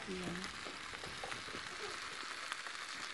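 Steady oil sizzling and crackling from a hot pan, with faint clinks and a brief voice murmur in the background.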